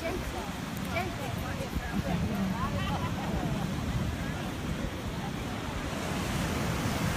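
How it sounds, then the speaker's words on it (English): Ocean surf at the Jersey shore in Asbury Park forms a constant roaring wash under wind noise, while someone talks briefly over the first few seconds. "So this is a nice ocean"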